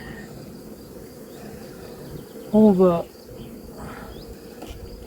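A dense, steady drone of honeybees around hive frames during a transfer from nucleus boxes to full hives, buzzing continuously in the background, with a voice briefly speaking over it.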